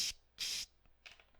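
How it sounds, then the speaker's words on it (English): Bug spray aerosol can giving two sharp hissing bursts, a short one then a longer one, followed by a fainter third spurt, close and clear with no talk. "Bug spray."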